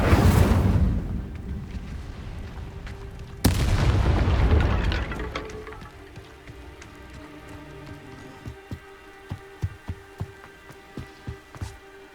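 Casting the Incendio fire spell in Hogwarts Legacy: a heavy whooshing burst of flame that roars and fades, a second blast a few seconds later, then a string of sharp crackling pops as the fire dies down.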